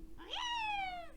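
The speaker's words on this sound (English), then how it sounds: "Yep, it's just Toad screaming." A single short screaming cry from Toad, the Mario game character, used as a voice sample in a beat, sweeps sharply up in pitch then holds a bright, harmonic, slightly falling wail before cutting off, heard alone.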